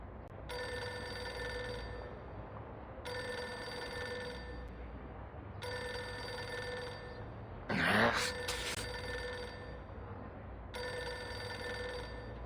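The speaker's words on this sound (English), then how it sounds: "Pick up the phone already." A telephone in the video game Reverse 1999 rings in repeated electronic bursts, four evenly spaced trills, with a brief gasp-like burst between the third and fourth.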